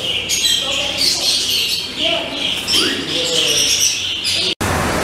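Many caged birds for sale at a bird market, including pigeons or doves, fill the air with dense, loud chirping, tweeting and cooing, continuous and close, ending with a brief cut.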